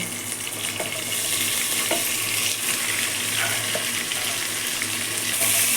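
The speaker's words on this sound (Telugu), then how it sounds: "ఉల్లిపాయ ముక్కలు బాగా వేగాలి" Dried red chilies, green chilies, curry leaves and onion pieces fry in a pot for one-pot sambar rice, making a loud, steady sizzle with occasional stirring clinks, close up and without voices.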